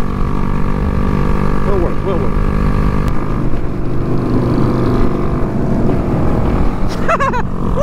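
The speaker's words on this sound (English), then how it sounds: "Makes it well worth the forward lean maxed out throttle Grom for an hour trip." A Honda Grom motorcycle is ridden at maxed-out throttle on an hour-long trip in Florida, its small engine holding a loud, steady buzzing drone mixed with wind rush, close and unbroken.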